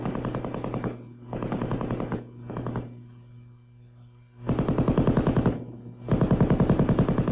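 An M60 7.62 mm machine gun, gas-operated and belt-fed, fires several loud, close bursts of rapid automatic shots, with short pauses between them.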